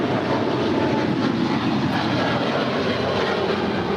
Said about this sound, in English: This is ANA Flight 5 heading back to Tokyo Narita, 777-300ER.